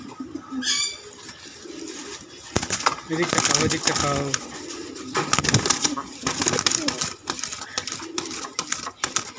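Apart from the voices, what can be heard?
Mayurpankhi pigeons cooing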